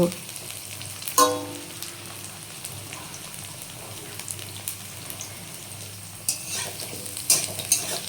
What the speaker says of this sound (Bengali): আলুগুলো একটু ভেজে নিই, তোমরা দেখতে থাকো।